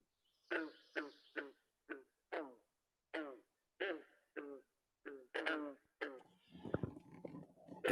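Frogs croaking outdoors at night, a series of loud, close, separate croaks spaced about half a second apart, giving way to a burst of rougher noise near the end.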